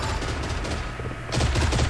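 Rapid gunfire from the video game Creative Destruction, a dense crackle of shots that swells into a louder, sharper volley in the second half, close and continuous with no voices.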